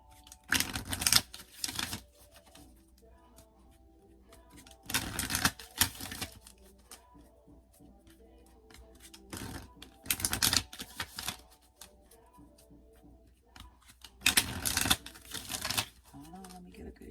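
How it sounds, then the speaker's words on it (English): Cards being shuffled in four separate crisp bursts, each about a second long, with quiet pauses between them, close up. "Shuffle."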